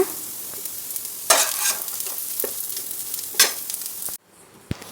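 Baby corn fries in oil until golden brown, giving a continuous sizzle punctuated by a few louder stirring scrapes, before the sound abruptly drops away near the end.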